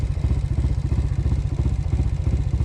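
A Honda CT motorcycle engine runs steadily while riding, giving a loud, continuous low-pitched chugging with a fast, even pulse and some mechanical clatter throughout, with no voices.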